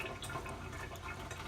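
Water splashes and trickles steadily as a handful of wet grated pumpkin is squeezed out by hand, a soft, close, continuous liquid patter with no talking.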